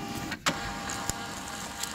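A standalone allergen label printer feeds out labels for chicken salad sandwiches, a steady mechanical whir with brief clicks and ticks, close and moderately loud with no talking.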